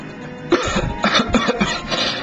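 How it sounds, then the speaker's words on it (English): A video game character in Super Robot Wars Alpha Gaiden coughs several times in quick succession, close and fairly loud over a steady background hum, with no talking. "Cough."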